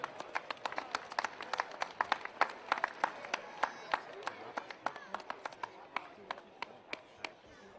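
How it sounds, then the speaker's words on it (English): Scattered applause at an outdoor charity match, with sparse, distinct claps spread unevenly across the clip, modest in volume and slowly thinning toward the end. "Big round of applause to Kenny."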